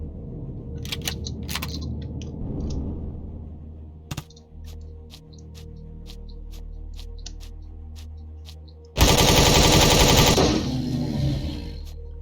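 Video game gunfire in a casual stream: a burst of rapid single shots crackles out over a low hum, then a loud, dense spray of automatic fire erupts near the end and runs for a couple of seconds.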